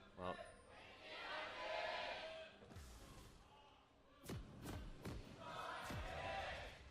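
Fans cheer for KT at a League of Legends esports match in the LCK, a crowd roar swelling in waves with rhythmic thumping thundersticks in bursts, the noise fairly faint and distant.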